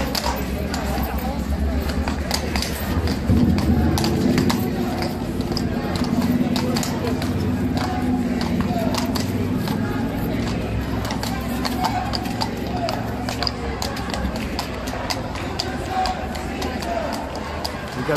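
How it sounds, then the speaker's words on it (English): A spooked horse at Horse Guards Parade clatters its hooves on hard ground amid a noisy, talking crowd of onlookers, with a continuous loud mix of scuffling hoofbeats and voices. "We got that horse already freaked out."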